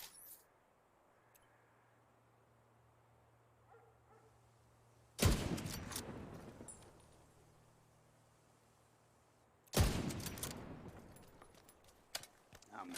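Two loud gunshots in The Division 2, each a sharp close blast with a short decaying tail, spaced several seconds apart over a quiet background with faint game ambience.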